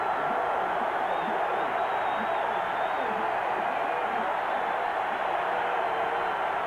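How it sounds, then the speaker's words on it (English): A large stadium crowd at a 1985 college football game between Alabama and Georgia at Sanford Stadium roars in a steady, sustained wash of cheering throughout, distant and broad with no pauses. "Here comes the crowd."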